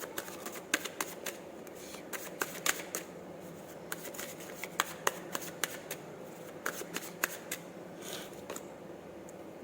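Tarot cards are drawn and shuffled close up, making soft, irregular flicks and papery snaps scattered over a steady background hiss.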